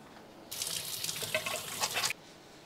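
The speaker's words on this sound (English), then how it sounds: "Now I'm gonna wash my hands." Tap water runs steadily into a kitchen sink for hand washing, a close, bright splashing stream lasting under two seconds, starting and stopping abruptly.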